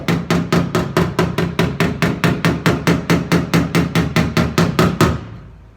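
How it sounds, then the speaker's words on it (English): A body hammer taps a fiberglass panel in a fast, even rhythm, about two dozen sharp ringing strikes close by, then stops and the ring fades. "It's good to also have a body hammer."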